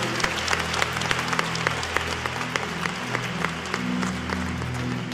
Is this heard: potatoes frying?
no